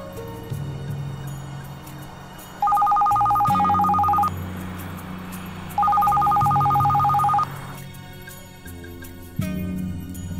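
A telephone rings in two long electronic bursts separated by a pause, loud over a low background hum and music-like tones in a movie scene.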